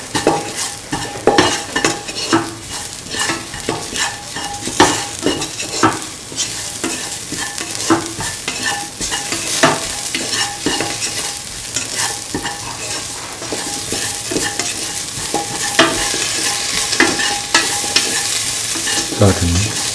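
Beef, carrot and ivy gourd sautéing in a pan for a stew, with steady sizzling under repeated scraping and clinking stirs of a utensil, close and continuous throughout.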